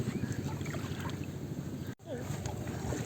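A small boat glides through village floodwater, giving a steady low wash of water and wind noise at close range that drops out briefly midway, then resumes.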